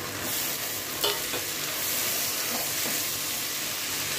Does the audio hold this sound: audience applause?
no